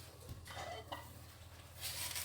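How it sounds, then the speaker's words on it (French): A spoon stirs sauce in a pan, giving faint, brief scraping and swishing strokes with a soft clink, quiet and close, no talking. "je mélange bien ma sauce"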